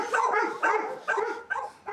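A dog barks in four quick, loud bursts, each yip-like bark followed by a short tail, close to the listener and with no talk over it.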